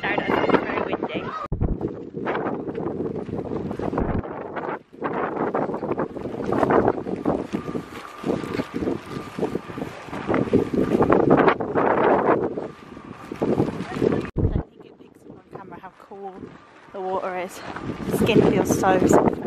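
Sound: wind blowing outside at the Blue Lagoon, Iceland

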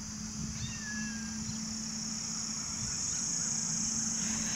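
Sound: kitten meowing

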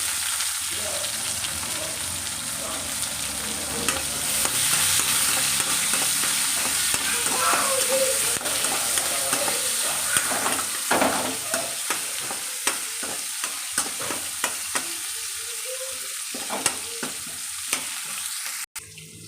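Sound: onion and curry leaves frying in oil for tempering

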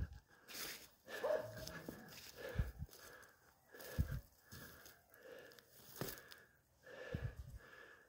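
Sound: hunting dog

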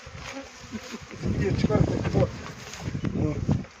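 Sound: honeybees buzzing at a hive with a Carniolan queen

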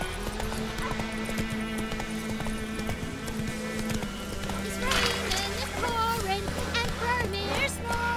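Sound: horse galloping in The Witcher 3 video game

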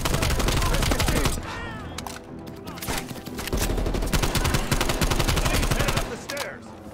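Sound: gunfire in video game Black Ops Cold War

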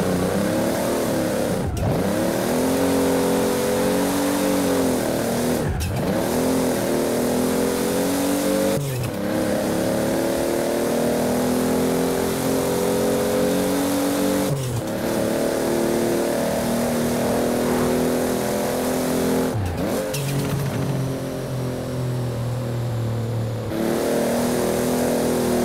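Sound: Toyota Supra engine revving in Forza Horizon 4 video game

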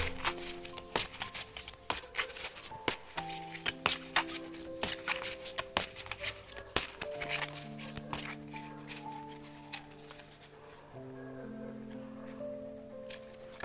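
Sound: shuffling oracle cards

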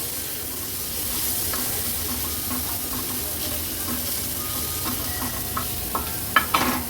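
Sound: chopped tomato stirred into frying masala

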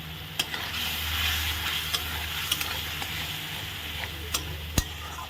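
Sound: stir-frying green chili paste in a pan

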